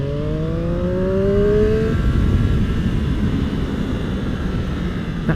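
A Triumph Street Triple RS motorcycle engine accelerates hard in second gear out of a corner, its pitch climbing steadily before a gear change, then a loud, sustained engine drone with wind noise, close to the rider.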